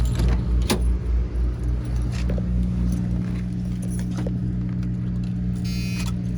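Keys jingle and clink close by in the ignition of a 1973 Pontiac Bonneville over a steady low engine hum, with a few sharper metallic rattles near the start.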